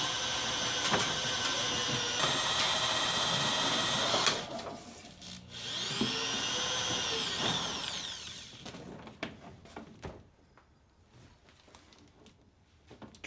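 An electric power drill whines loudly at high speed, stops, revs up again, then cuts off, leaving scattered clicks and handling noise.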